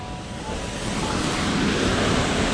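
A wild waterfall about 15 m high sends a steady, broad rush of crashing water that swells slightly louder over a few seconds, with no voices.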